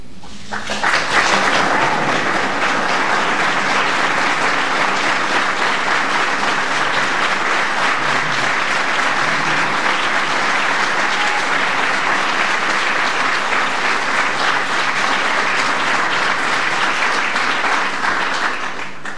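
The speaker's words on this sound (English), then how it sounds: "give a rousing applause to our Medal of Freedom winners" Audience applause at a Presidential Medal of Freedom ceremony honoring Dr. William Foege, a dense, steady roar of clapping from a large crowd that swells quickly and holds at full strength throughout, with no speech over it.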